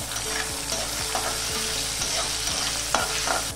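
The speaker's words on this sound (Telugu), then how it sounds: "పోపు వేగాక స్టవ్ ఆఫ్ చేసుకోవాలి।" A tempering of curry leaves, turmeric and boiled chickpeas crackles and sizzles steadily in hot oil up close, with regular stirring scrapes of a spoon against the pan throughout and no talk.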